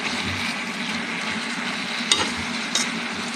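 Ridge gourd (zika) curry sizzles steadily in a pan while it is stirred, with a continuous frying hiss and two sharp clinks of the utensil against the pan.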